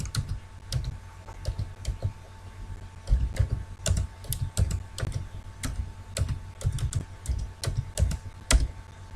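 A password being entered on a computer keyboard: close, crisp key clicks in quick irregular bursts with brief pauses between runs.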